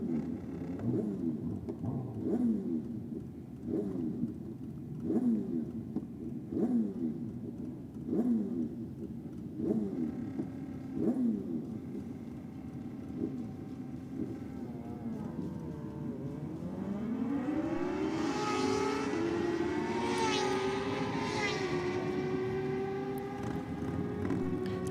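Drag-racing motorcycles at a bike night event, a pair launching and thundering toward the finish line with rising, rapid revving bursts and gear changes, then a sustained high-pitched engine whine sweeping upward, loud and fairly close.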